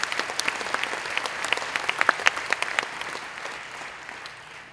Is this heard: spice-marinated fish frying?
no